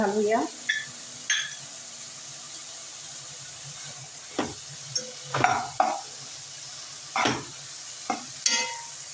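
Biryani masala stirred into vegetable biryani in a cooking pot, heard as a series of short spoon scrapes and clatters spaced a second or so apart over a faint hiss, with someone speaking briefly at the start.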